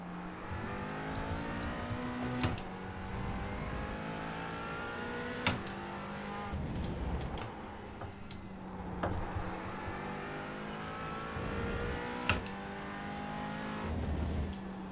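A GT4 race car engine in a racing video game, set at Laguna Seca, revs up and down through repeated gear shifts over fifteen seconds, with sharp clicks at each shift and faint tire noise.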